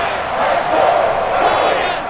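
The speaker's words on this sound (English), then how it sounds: "Crowd trying to rally the Giants." A stadium crowd in a Madden NFL 23 game between the New York Giants and Denver Broncos roars and cheers steadily, a dense, loud wash of noise with no clear breaks.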